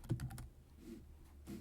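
Several quick keystrokes on a computer keyboard, entering a short command shortcut in AutoCAD, close and crisp in a burst at the start, then a brief pause before a final soft key press.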